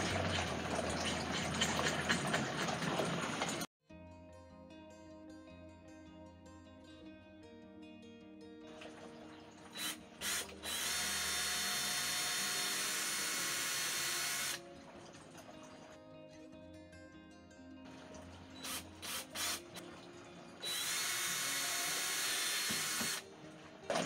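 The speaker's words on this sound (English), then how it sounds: "we need to drill two holes. So I'm going to use this drill bit here." Power drill boring holes in a DIY portable sink build: several sustained loud whining bursts separated by pauses, close and alone without talk.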